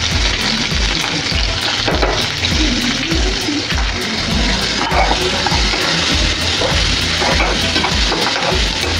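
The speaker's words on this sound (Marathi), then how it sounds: "कांदा चांगला लाल होईपर्यंत आपण परतवणार आहे।" Finely chopped onion fries in a pan with ginger-garlic paste, a steady dense sizzle running throughout with soft thumps of stirring underneath, fairly loud and close.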